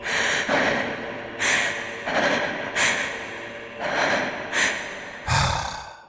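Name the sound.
Annalise panting and breathing heavily, Bloodborne video game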